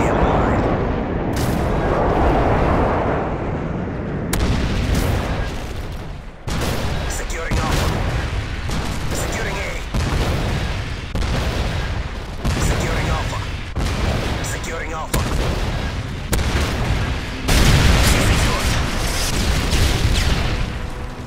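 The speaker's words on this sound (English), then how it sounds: "Enemy airstrike approaching." Heavy explosions and gunfire from an enemy airstrike in the video game Call of Duty: Modern Warfare 3 boom in a dense, continuous barrage of loud bursts, with voices heard through the mix.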